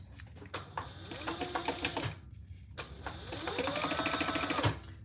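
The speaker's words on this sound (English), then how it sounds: "I just chain stitch them and then cut them apart." A sewing machine chain-stitching card slot pieces for a wallet, running in two quick close-up bursts separated by a brief pause, its needle rattling steadily over a low motor hum.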